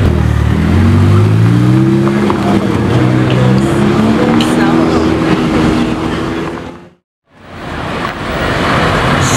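A car engine revs hard close by, its loud, rising roar climbing in pitch before dropping away abruptly near the end and then returning.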